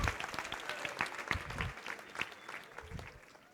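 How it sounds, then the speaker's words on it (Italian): An audience at a career-day conference session in a hall in Cagliari, Sardinia, claps steadily in a dense patter of many hands, fading slightly toward the end. "facciamo un applauso"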